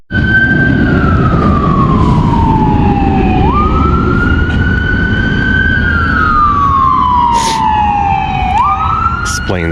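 An emergency siren wails continuously, sweeping up and down in long cycles over loud traffic rumble, close and prominent throughout, near Red River State Recreation Area in East Grand Forks, Minnesota.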